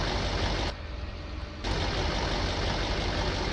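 An old silage truck engine in Farming Simulator 19 runs loud and close, its rumble dipping briefly before resuming at a steady idle.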